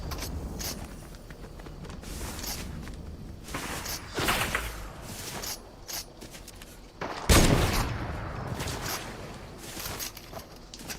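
Sniper rifle fire and other gunshots in the Fortnite video game: a run of sharp cracks and bursts at irregular intervals, one especially loud shot near the end, with footstep-like shuffling between them.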